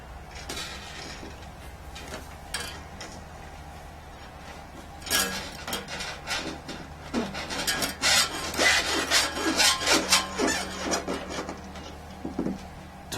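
A harp string is threaded through its hole from the back, giving soft scraping and rubbing at first, then a louder run of rasping, sliding friction with quick irregular bursts near the end.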